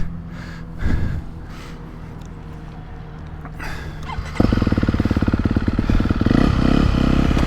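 KTM four-stroke motocross bike, a 2022.5 250SXF or 2023 350SXF with a Yoshimura exhaust and aftermarket ignition mapping. It idles roughly before revving up hard and loud, holding a strong close-up engine note alone.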